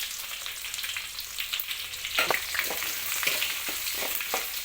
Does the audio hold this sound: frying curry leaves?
yes